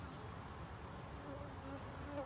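Honeybees hum steadily around an opened hive frame dotted with brood and pollen, a dense continuous buzz close by with occasional louder passes, no talking.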